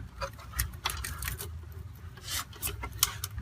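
Plastic cover piece of a Mitsubishi ductless air conditioner evaporator unit sliding into place, a close scraping rasp with several short rubbing strokes and clicks, no talking.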